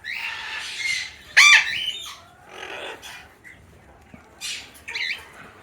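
Parrots in a large walk-in mixed-flight aviary give several harsh squawks and shorter chirps in scattered bursts, some loud and close, with quieter calls between and faint background rustle.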